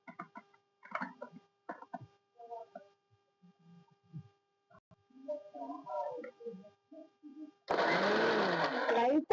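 A mixer grinder whirs into a loud, steady grinding roar of spices for wedding-style pepper rasam, starting abruptly near the end after a stretch of someone talking.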